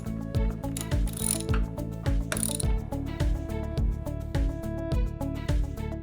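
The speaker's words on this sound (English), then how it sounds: "Using a 16mm socket wrench, turn the blade nut clockwise and tighten securely." Socket wrench ratcheting a blade nut onto a toothed edger shaft, a steady run of close, loud mechanical clicks in a regular rhythm with heavier thumps between strokes.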